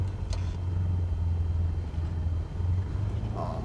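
In Microsoft Flight Simulator 2020, a Cessna 172 taxis with a steady low engine drone, a constant mid-level hum and a few faint clicks, with no talk.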